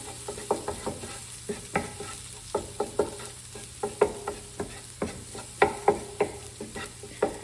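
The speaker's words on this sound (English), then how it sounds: "So we'll saute these for just a little bit, just to get a little color on them" Diced potatoes sautéing in a pan for steak au poivre, a soft sizzle under a steady run of quick clacking stirs and scrapes against the pan, about two per second, close and fairly quiet, with no talking.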